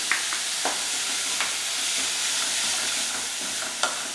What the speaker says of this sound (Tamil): ரொம்ப வதக்க வேணாம்,